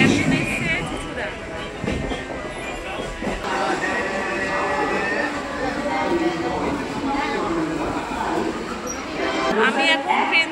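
A suburban train travelling between Bally and Chinsurah rumbles steadily with rattling carriage noise and intermittent clicks, while people talk over the continuous din of the ride.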